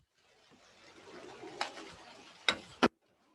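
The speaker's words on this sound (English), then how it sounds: "I can hear the bird very loudly in the background" Bird calling in the background outdoors, heard as a few sharp, loud chirps near the end over faint ambient noise and low murmuring.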